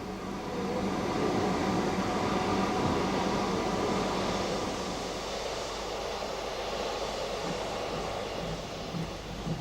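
A train on an old Kent branch line, drawn by an E1 steam locomotive, rumbles past as a steady low roar that eases slightly after a few seconds.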